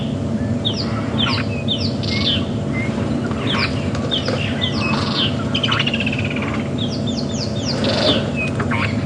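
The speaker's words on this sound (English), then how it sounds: "Woodlands kingfishers calling around us, virtual starling." Woodland kingfishers, starlings and other birds call at once on a morning safari drive at Djuma Game Reserve, with repeated chirps and trilling notes from several directions over a steady low hum.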